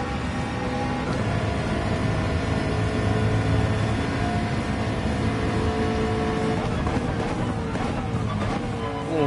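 Steady, loud car engine in Gran Turismo 7 with an almost supercharged tone and heavy air intake, holding a continuous drone with rising revs and tonal shifts near the end, no talking.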